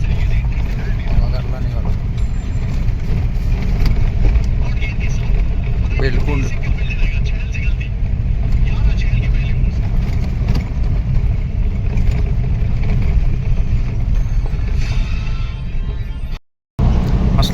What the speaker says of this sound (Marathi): असल्या खराब रस्त्याला गाडी काढून आणून